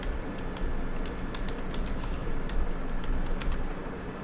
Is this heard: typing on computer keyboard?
yes